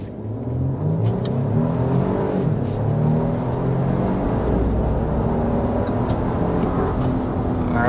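A 2025 Nissan Armada accelerates at full throttle up to 60 mph, a steady, loud engine drone with rising tone heard from inside the cabin, continuous with no talking.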